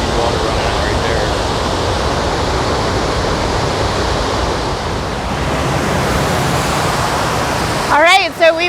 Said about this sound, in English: This one is a smaller waterfall